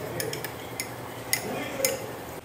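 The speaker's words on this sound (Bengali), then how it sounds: "একটা চামচ দিয়ে ঘুরে নিই।" A spoon stirring tea in a cup, light metallic clinks and taps at irregular intervals over a soft steady background hiss, close and fairly quiet.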